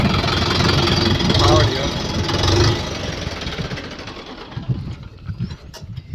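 A tractor engine, taken out in the morning for a wood-hauling load, runs loud and close with a steady rumble. It settles into a lower, rougher idle toward the end.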